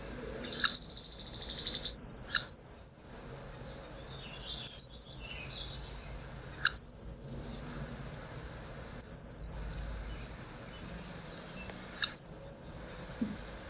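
A male bird at a meadow's edge repeats a short liquid series of notes capped by a thin, sliding high whistle, several bursts spaced by brief pauses, close and clear over quiet outdoor background.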